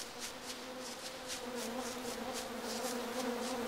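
Flies buzz around beefalo dung in the game Don't Starve, a steady droning hum with a faint pulsing texture that holds at an even level throughout, alone with no talking.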